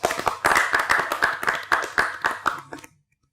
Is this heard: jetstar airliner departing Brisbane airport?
no